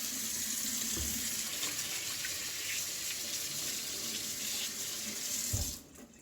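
Steady running water from a faucet splashing over hands at a sink, continuous and close, with brief rubbing movements, stopping abruptly near the end.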